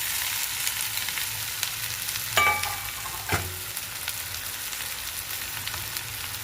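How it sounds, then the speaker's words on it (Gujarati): Sesame seeds and leftover dhokla pieces fry in a hot pan with oil, giving a steady, close sizzle broken by a couple of sharp stirring clacks. "તલ અને આ ઢોકળા નાખી દેવાના."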